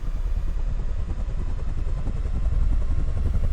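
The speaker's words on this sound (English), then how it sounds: "and the helicopter is in the air" A video game helicopter's rotor thumps in a rapid, steady chop over a low engine drone, loud and close throughout.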